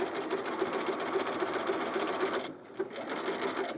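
A sewing machine stitches binding onto a top in a fast, steady mechanical whir with rhythmic needle ticks, pausing briefly before resuming, close and loud.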